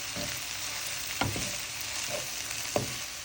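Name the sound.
karela (bitter gourd) frying and stirring with salt, chilies, turmeric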